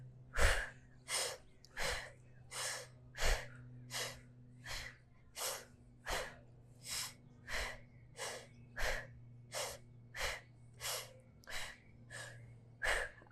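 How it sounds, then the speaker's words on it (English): Forceful power breaths during a yoga core workout, about seventeen sharp, rhythmic exhalations spaced roughly evenly, close and loud, with no talking over them. "10 power breaths."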